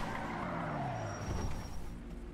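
A car doing a reverse start, its engine revving steadily and holding close and fairly quiet, with a brief rising whine of tires scuffing near the middle before the revs settle.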